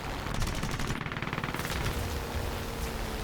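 Sustained machine gun fire from the guns of a Sea Fury FB 11 fighter in War Thunder, a steady rapid rattle of closely spaced shots lasting the whole stretch at even loudness, with engine drone underneath.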